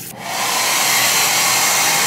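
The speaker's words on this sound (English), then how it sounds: "I was seeing if you guys have a blow dryer" A hair dryer switches on and roars steadily, a loud, constant whooshing hiss that holds without a break.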